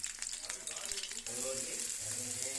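Ridge gourd pieces frying in hot oil with green chillies in a pan, a steady close sizzle that swells as the pieces go in, with no talk over it.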